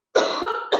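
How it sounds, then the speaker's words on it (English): A single hacking cough from a person with hay fever, two quick throaty bursts close up against near silence. "I'm just going to cough for a minute, just hang on."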